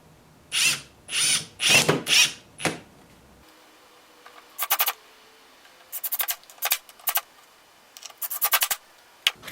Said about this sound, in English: I'm going to drill a large flat spot for my chuck jaws to set against.